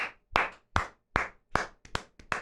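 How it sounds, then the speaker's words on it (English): Single hand claps, seven sharp, close strikes at an uneven, unhurried pace with short gaps between them. "Give it up for our boy Derek Carr, dude"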